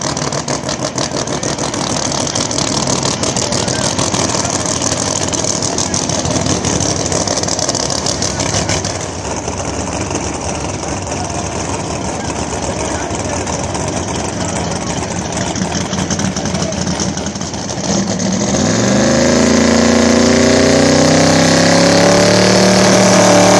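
A twin-turbo LS engine in an outlaw small-tire radial drag racing car, a loud, steady rough idle that rises sharply into a rev near the end.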